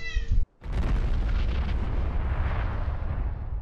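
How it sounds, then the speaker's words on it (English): A pet cat gives a short, tonal meow at the start. It is cut off by a sudden silence, followed by a loud, continuous rumbling roar. "my cat just busted in my room"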